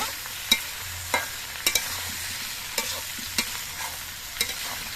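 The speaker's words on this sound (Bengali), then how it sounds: "এক চামচ ধনে গুঁড়ো এক চামচ জিরে গুঁড়ো এবার নেড়ে চেড়ে মিশিয়ে নেব" Coriander and cumin powder are stirred through winter vegetables in a kadai for mixed khichuri, a quiet sizzle under a series of sharp spoon clinks and scrapes against the pan at irregular intervals.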